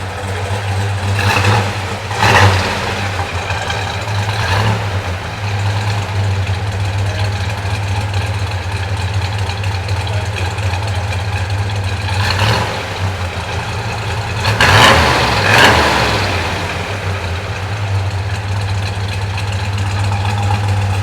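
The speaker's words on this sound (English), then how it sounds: "Solid lifters, big block Chevy, 4-speed, and PJ's favorite." A big block Chevy V8 with solid lifters in an Impala with a 4-speed idles loudly with a lumpy, steady rumble, broken by several sharp revs, including a double blip near the end.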